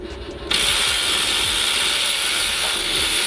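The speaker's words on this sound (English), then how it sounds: "to take the alternator bolts off, absolutely dead easy" A ratchet works loose the alternator bolts on a 2011 Toyota Avensis, a dense close clicking that starts abruptly after a short pause and runs steadily over a broad hiss, without talking.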